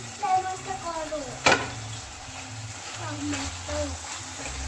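Brinjal curry with tomato is stirred in a pan, a soft sizzle with a sharp scrape or clatter partway through, while someone talks over it nearby.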